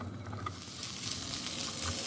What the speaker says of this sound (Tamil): ஒரு கடாயில் எண்ணெய் ஊற்றி கோவக்காயை வதக்கிங்கோ